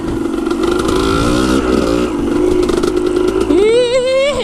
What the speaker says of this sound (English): Spinning with this Roach tire